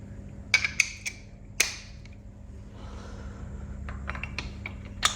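A hand tool loosens a spark plug on a Ducati Monster S2R 1000, giving a few sharp ratchet clicks and metallic ticks close up over a steady low hum, with a quieter run of clicks near the end.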